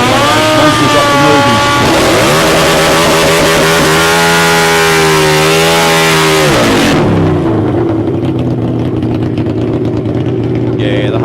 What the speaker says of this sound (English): the Harleys have got a note all of their own